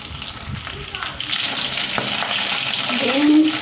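Chicken wings fry in a pan with a close, steady sizzle and bubbling, with occasional scraping and stirring, growing slightly louder toward the end, with no talking.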